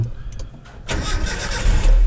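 A 1992 Nissan Hardbody D21 truck engine cranks briefly and then catches, rising into a loud, steady close-up idle that grows heavier toward the end.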